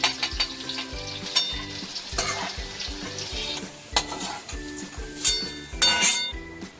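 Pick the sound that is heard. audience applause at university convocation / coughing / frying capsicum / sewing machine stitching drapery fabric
frying capsicum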